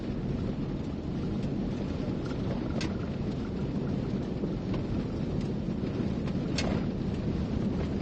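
Steady rain falls during a thunderstorm, with a constant loud wash of noise and a couple of brief crackling bursts, heard alone with no talking.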